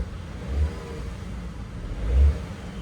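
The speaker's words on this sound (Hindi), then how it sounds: "रेव करके सुना आपको" Tata Punch Adventure Plus car running on CNG revved from idle, a steady mid-pitched engine hum swelling in two short revs, the second louder and longer, then easing back.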